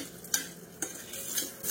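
Spoon stirring a hot tempering of asafoetida and turmeric in a pan, giving three quiet scraping strokes spaced apart over a faint, low sizzle.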